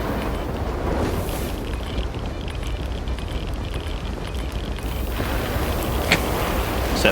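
A large fire burns in S.T.A.L.K.E.R. 2, a dense, continuous roar and crackle that stays loud and steady throughout, swelling slightly near the end.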